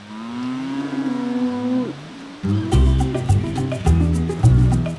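A cow moos long and low on its own, followed by several more overlapping moos and bellows from nearby cattle.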